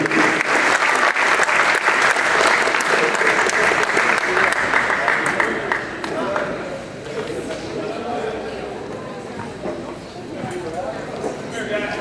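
A gym crowd at a high school wrestling senior night gives a loud, sustained round of applause for the seniors, dense clapping that eases and thins toward the end.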